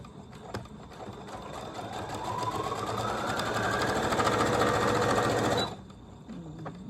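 A sewing machine runs steadily for several seconds as it sews a zipper, its pace picking up and then stopping abruptly. A few quiet handling sounds follow once the motor stops.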